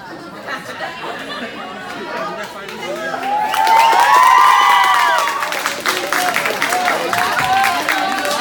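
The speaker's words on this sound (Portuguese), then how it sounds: "Palmas para a coragem dele" An audience breaks into clapping mixed with chatter, cheers and laughter, building to a loud peak midway, then settling into lively crowd noise.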